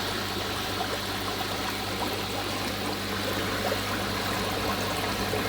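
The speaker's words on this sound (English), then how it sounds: "boil straight up, and the boil is far stronger than before." Water boils steadily upward through a Trident upflow pond filter, a constant close bubbling and trickling rush with no breaks and no voices.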